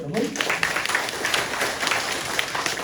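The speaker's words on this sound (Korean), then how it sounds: "하느님께 박수 쳐야 되겠죠?" A congregation at a Saturday prayer meeting in a Catholic church applauding, a brisk, fairly loud round of clapping after a voice at the very start.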